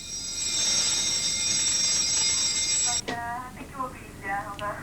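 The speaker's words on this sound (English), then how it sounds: "Unknown to the men, they triggered an alarm." An automatic burglar alarm at a football club social club rings loud and continuous with a steady electronic tone for about three seconds, then cuts off as a voice speaks over a radio-like channel.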